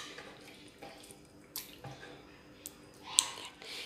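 Tap water runs faintly into a sink while chicken breast is washed, with soft splashes, drips and a few sharper clatters scattered through a short, quiet stretch.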